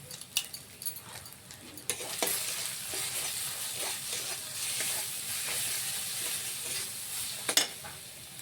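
Kashmiri chilli being stirred into a katla fish kalia curry frying in a pan: a steady close sizzle with scraping stir strokes and a few sharper clinks, no talking.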